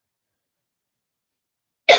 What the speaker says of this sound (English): I can't believe I'm coughing right now.